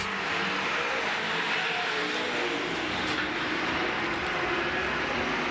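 Saloon race cars roar steadily past on Baypark Speedway, a continuous loud engine drone with no pauses, no voices audible.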